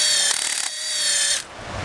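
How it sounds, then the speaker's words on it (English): A drill spinning a brass wire brush bit scrubs metal clean on a 1994–96 Impala SS water pump install, a close, steady high whine and scratch that runs about a second and a half then cuts off. "I'm just going to use a brass wire brush, a bit for the drill, and we're just going to clean this up."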